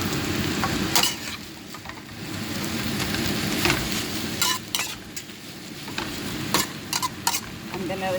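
Broccoli stir-frying in a pan for pancit miki, a steady hiss of sizzling oil broken by repeated sharp scrapes and clatters of a utensil tossing the vegetables, close and without talk.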